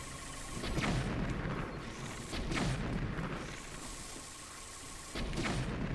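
Bomb arrows go off in Zelda: Breath of the Wild, three deep booming explosions spaced about two seconds apart, each a loud burst that rumbles down over a dense, noisy game soundscape.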